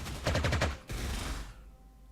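Fighter planes strafe a DB-7 bomber in Panzer Corps 2: a rapid rattling burst of machine-gun fire, then a second heavier volley that trails off into quiet.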